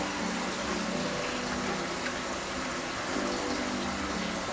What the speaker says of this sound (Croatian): činija u kojoj smo mesili testo, odmah ćemo je napuniti vodom i oprati